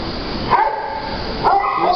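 A seven-month-old dog in a shelter barks twice, close and fairly loud, with short sharp yips about a second apart over a noisy background.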